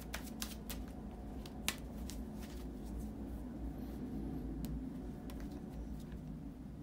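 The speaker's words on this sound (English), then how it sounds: "as soon as I finish with the shuffling here of the cards" Tarot cards being shuffled by hand make soft, quiet riffling and sharp little taps that come in scattered bursts over a low, steady background hum.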